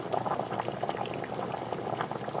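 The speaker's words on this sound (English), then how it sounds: "We're still boiling good, but watch how fast the boiling stops when I turn off the Mini-Ductor." Water boils hard in an electromagnetic induction boiler core heated by a Mini-Ductor, giving a dense, continuous bubbling and rumbling close up that keeps going strongly with no pause.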